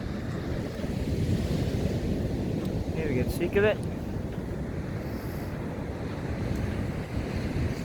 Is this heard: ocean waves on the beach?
yes